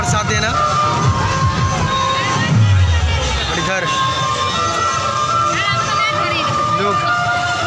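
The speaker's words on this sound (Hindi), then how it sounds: "लोग बहुत भीड़ है आज जो कि लोग आ रहे हैं भीड़ में" A dense crowd gathers for a prasad distribution at a roti bank charity, with steady loud hubbub, overlapping voices and occasional shouts near and far, and a nearby person calling out over the babble.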